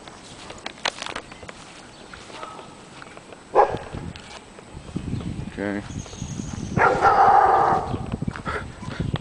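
A black Labrador-type dog next door barks a few times at a distance amid outdoor background noise, with a person speaking briefly nearby.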